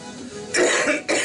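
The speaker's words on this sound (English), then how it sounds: "Sorry. Cough." A man gives two quick, harsh coughs close up, one right after the other, following a brief low murmur.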